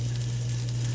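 Breaded morel mushrooms frying in a pan, a steady close crackling sizzle with a constant low hum beneath, continuous and even throughout.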